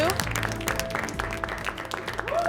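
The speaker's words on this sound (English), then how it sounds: "Everybody should be clapping." Studio audience clapping steadily through a live broadcast taping, a dense continuous wash of applause with a voice talking over it.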